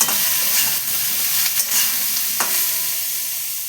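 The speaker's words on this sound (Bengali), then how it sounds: "এই যে নুন, দিয়ে এবার একটুখানি ভেজে নেব।" Bottle gourd curry with salt frying in a pan for a vegetarian Bengali dish, a loud, continuous hiss and sizzle with occasional scraping stirs close by.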